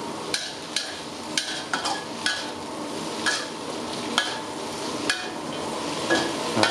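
Chicken with cashews and three colours of bell pepper being stir-fried for a Thai dish gives a soft sizzle, with repeated sharp scrapes and clacks of a spatula against the pan at irregular intervals, close by and without talk.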